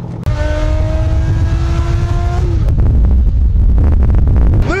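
Car driving, heard from inside the cabin: a steady low road rumble and engine noise, with a rising tonal whine in the first half that fades out, and no one speaking.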